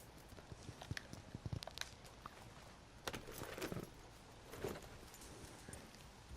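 A horse in Red Dead Redemption 2 walks with soft, uneven hoof clops, mixed with tack jingling and a few sharper knocks, fairly quiet and close, with no talking.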